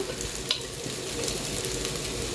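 Rice tipped into a pot of browned vermicelli frying in oil for Egyptian koshari sizzles and crackles steadily, with a brief bright clink near the start and otherwise an even, close frying hiss.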